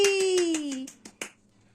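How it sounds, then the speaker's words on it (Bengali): Several quick hand claps ring out at a family birthday celebration at home, following a sustained voiced tone at the start, then fading into quiet. "হাততালি।"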